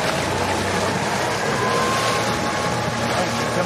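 A solar-powered electric boat motor runs at full power on slightly choppy water, a steady, dense rushing whir mixed with water wash that holds unchanged throughout without letting up.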